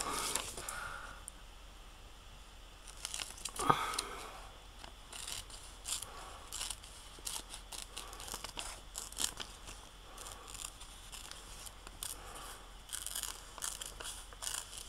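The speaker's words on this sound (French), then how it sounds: "Là, par contre, je vais me servir de mes ciseaux." Scissors snipping through glossy magazine paper for collage work, a quiet string of crisp cuts and rustles close by with small pauses between snips.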